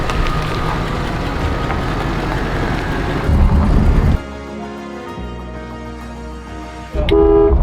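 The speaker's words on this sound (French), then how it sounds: "Oh le klaxon." A Rolls-Royce car horn honks loudly a few times over steady engine and road noise, with a sharp blast near the end.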